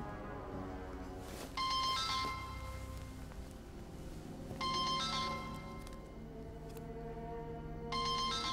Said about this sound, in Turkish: bir saattir telefon çalıyor.